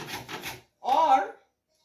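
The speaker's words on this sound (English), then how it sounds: "kindly notice that I'm grating on the big side because we want large shavings" White chocolate being grated on the large side of a box grater for cake shavings: three quick rasping strokes, a brief pause, then one longer scrape, close and clear with no talk.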